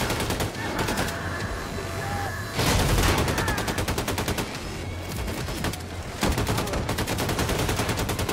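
Sustained automatic gunfire in the video game Wolfenstein 2, loud and close. Rapid machine-gun bursts run almost without pause, with heavier blasts at intervals.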